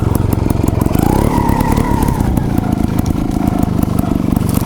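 A Gas Gas TXT trials motorcycle runs close and loud with a rapid, chattering engine pulse and a brief rise in revs, steady throughout with no speech.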